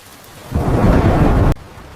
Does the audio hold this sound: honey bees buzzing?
no